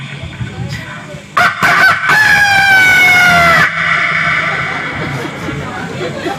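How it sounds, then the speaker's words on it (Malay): A rooster crows in one long, drawn-out call with a wavering rise and fall, loud and close, after a few brief sharp sounds, with a faint background hum around it. "Bayangkan ayam berkokok dengan kokok Arab."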